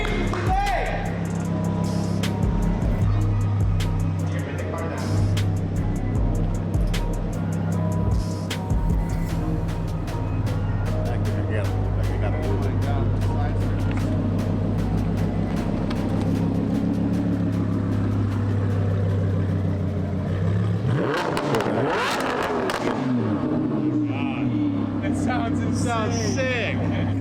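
A Lamborghini Huracan LP610-4 is driven outside, its engine a steady low rumble with clicks and knocks throughout, then a louder rev burst near the end, while people talk over it.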